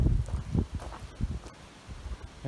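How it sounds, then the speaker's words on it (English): Gusty wind buffets the microphone in uneven rumbling bursts on the Appalachian Trail near Troutville, Virginia, with rustling in between and no voices. "it's really windy out here"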